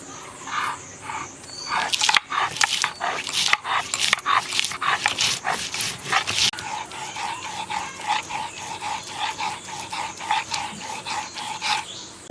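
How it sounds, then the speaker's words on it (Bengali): Green and dried chillies ground into a paste on a stone, rhythmic scraping strokes repeating steadily, close and fairly loud, with harsher bursts in the first half. "এবার বেটে নেব কাঁচা লঙ্কা। কাঁচা লঙ্কা আর কিছুটা শুকনো লঙ্কা,"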